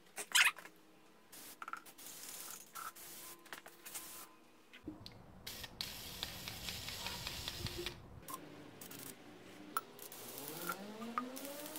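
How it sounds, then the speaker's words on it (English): Spray paint hisses in several bursts, a longer steady spray in the middle, mixed with clicks and shuffling handling noises nearby. "this isn't an ideal spot to be spray painting"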